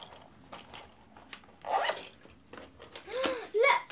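A zipper on a pencil case is pulled open in a few quick rasping strokes, with a brief pause between them and a louder final pull near the end. The sound is close, with no talking.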